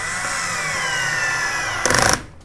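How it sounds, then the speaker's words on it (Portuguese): A drill with a 3 mm bit bores a small hole in a part for a homemade CNC machine's Y-axis, a steady high whine close by, then a short louder burst before it winds down. "a gente vai usar uma broquinha de 3 mm para fazer o furinho"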